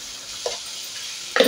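Spice paste fries in a pan for a potato and soya chunk curry, a steady close sizzle broken by a couple of brief stirring scrapes.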